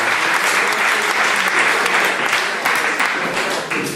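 An audience at a magic show bursts into loud, dense applause, many hands clapping steadily and close for the whole stretch without a pause.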